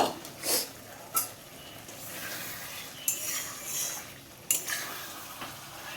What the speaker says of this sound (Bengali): এবার আমি পটলগুলো দিয়ে দেবো, দিয়ে মশলার সঙ্গে ভালো করে কষি নেব